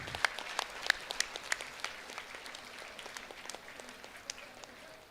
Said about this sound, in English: Audience, please give a big applause.